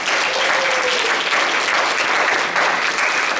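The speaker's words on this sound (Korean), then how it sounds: "저들을 격려하며 박수 한번 주세요." A church congregation at a Sunday youth worship service in Auckland bursting into steady, dense applause indoors, lasting a few seconds without a break.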